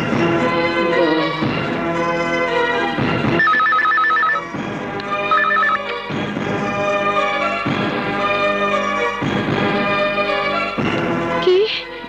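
A telephone ringing in a Bangladeshi movie scene, repeated loud ring bursts with short pauses between them, over a background music score and no clear talk.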